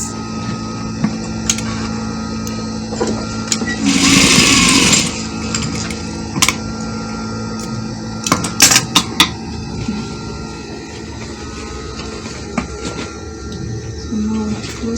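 A sewing machine stitches the side seams of an open jacket made from African fabric, running in a steady burst of mechanical whirring with a few brief clicks and pauses, fairly close and without talk.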